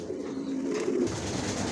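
Racer pigeons in a loft give a soft, low cooing murmur, a short close burst of throaty calls over faint background hiss.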